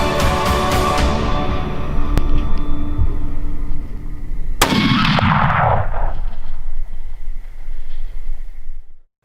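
A rifle fires a single loud shot at a buck during a deer hunt in fading evening light, the sharp crack rolling into a long echo over steady outdoor background noise.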